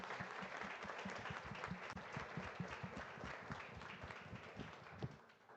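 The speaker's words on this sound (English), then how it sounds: "let's give this group one more round of applause." An audience at an academic conference session gives a round of applause, a sustained even wash of many hands clapping, fairly quiet and distant, with no speech over it.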